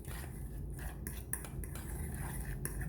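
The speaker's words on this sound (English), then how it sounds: "just stirring until they get pretty moist" Breadcrumbs and rich crackers being stirred in a bowl with a utensil, giving close, steady scraping and clinking throughout over a constant low background hum, with no talking.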